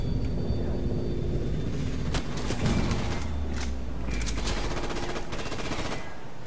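Rapid bursts of automatic gunfire in Call of Duty Modern Warfare Remastered, loud and close, with rattling volleys, short pauses between them and a low rumble underneath.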